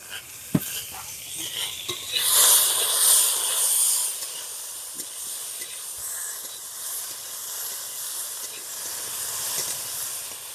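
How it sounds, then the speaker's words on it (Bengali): Potato, ridge gourd and flat beans frying in a pan with salt and turmeric give a soft, steady sizzle, with a few sharp clinks of stirring early on. No one speaks. "একটু ফ্রাই করে নিচ্ছি নাহলে ওই শাকের সঙ্গে ঘেঁটে যাবে"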